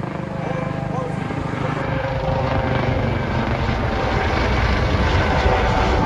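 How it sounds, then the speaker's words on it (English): A helicopter's steady rotor and engine roar fills the scene, loud and continuous, swelling slightly as it passes overhead. "Well, there's that helicopter"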